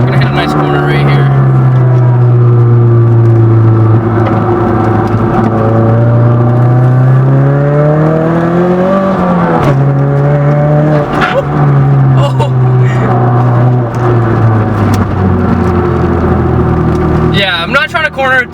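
A 330 hp Mazda MazdaSpeed3 engine revs hard through a corner on Chinese tires, a loud droning note rising and falling in pitch through gear changes, with a person talking over it.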